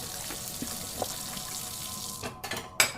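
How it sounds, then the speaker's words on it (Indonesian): Dishes being washed at a sink with water running steadily from a tap, with a few sharp clinks of crockery near the end. "Sembari mencuci piring, ibu berujar"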